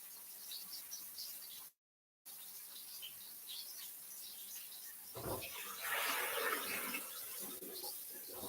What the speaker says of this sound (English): Get some cold water in there.